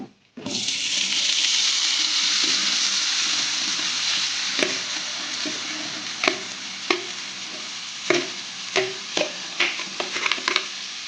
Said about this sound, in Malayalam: അപ്പം നമ്മൾ ഇതുണ്ട് ചെറുതായിട്ട് അരിഞ്ഞ് വെച്ചിരിക്കുന്നത് നമുക്ക് ഈ എണ്ണയിലേക്ക് ഇട്ട് കൊടുക്കണം